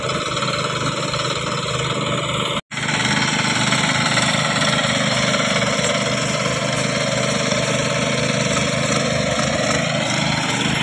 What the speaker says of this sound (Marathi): आता 2-2 ट्रॅक्टर लावलेले आहेत बघा